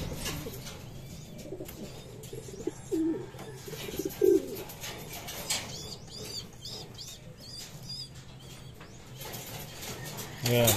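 A racing pigeon coos softly on a landing board after a 213 km derby race, with low throaty coos and occasional wing flutters beneath quiet nearby talk.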